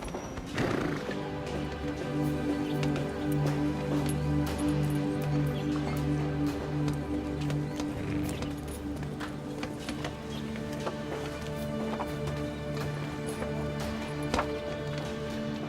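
A horse in a martial arts film lets out a loud whinny near the start, followed by steady clip-clopping hooves and thuds that continue throughout, close and clear.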